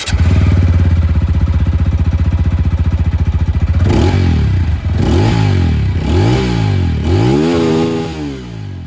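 A 2025 TVS Apache RTR 200 4V motorcycle idles with a loud, steady close-up thrum, then gets a series of quick throttle blips that rise and fall about once per second before settling.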